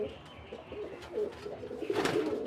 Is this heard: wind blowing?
no